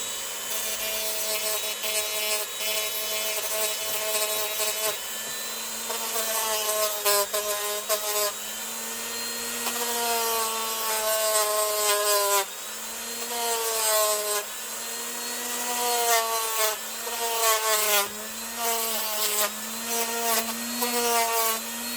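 A high-speed drill whines steadily while emery cloth rubs against spinning silver jewellery, producing a constant scraping hiss with shifting pitch.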